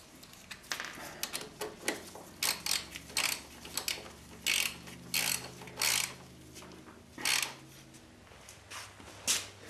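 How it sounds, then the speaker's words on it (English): A ratchet wrench tightening front brake bolts, its clicking pawl heard close in short repeated bursts of rapid ticks separated by brief pauses, with no talking. "I'll go ahead and torque these down off camera."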